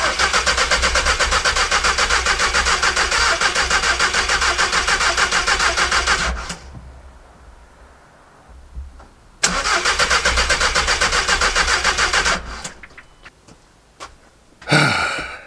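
A VW Caddy van with an engine fault and an extra battery clamped on cranks loudly in two long bursts, about six and three seconds, and does not start. A few short clicks and a rattle follow each attempt.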